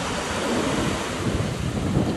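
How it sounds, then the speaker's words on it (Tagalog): Big ocean waves breaking on a beach in Surigao, a continuous loud roar of surf with heavy wind buffeting the microphone and no voices. "Laki ng alon."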